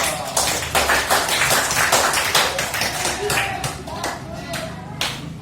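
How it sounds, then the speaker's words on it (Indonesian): A classroom of students claps hands together in a lesson, brisk clustered claps that come in uneven bursts with voices mixed in among them. "Tepuk tangan dulu."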